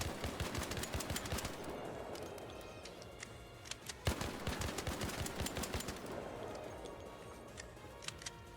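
A level 4 Venator gun firing in the video game Arc Raiders, rapid bursts of sharp shots in a fast steady rhythm with a brief break in the middle, loud and continuous, with no talking.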